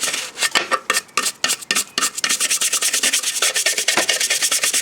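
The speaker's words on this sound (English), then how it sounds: "Literally just scrub it." A Plastidip-coated surface is scrubbed hard by hand, with quick rasping strokes that start separate and speed into a rapid, loud, steady rubbing rhythm.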